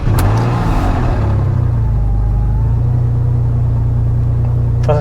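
A car engine with a low battery and low fuel cranks and catches, then settles into a steady, loud, close rumble with light revving and no talk.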